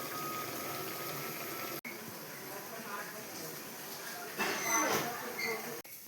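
A vegetable curry boils in a pot, giving a continuous soft bubbling that swells into a louder, frothier burst toward the end.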